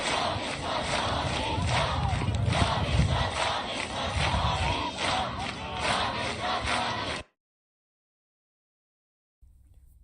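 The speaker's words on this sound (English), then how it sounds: "We have a huge crowd again out today across the country chanting," A large protest crowd of many voices chants loudly in unison with rhythmic surges, then cuts off abruptly to silence, followed by a faint low rumble at the very end.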